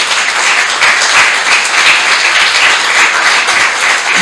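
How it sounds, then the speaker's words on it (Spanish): Dense, steady applause from a lecture audience honoring Georgette and César Vallejo at a closing conference on Trilce, filling the whole stretch at an even, loud level with no voices over it. "Un aplauso para Georgette y César Vallejo"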